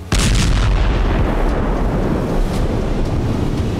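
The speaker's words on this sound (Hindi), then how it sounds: "गाड़ी जोरदार धमाके से उड़ गई" A car is blown up: a sudden loud blast erupts, then a sustained roaring rumble like debris and fire, continuing heavily for several seconds with no speech.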